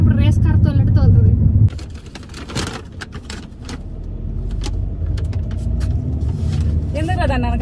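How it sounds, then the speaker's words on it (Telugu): A small car is driven hard, its engine droning loudly in the cabin and then settling into a steady road rumble, with talk and laughter from passengers running over it throughout. "ఈ బుడ్డ కార్ ఇప్పుడు రేస్ కార్ తోలినట్టు తోలుతుంది"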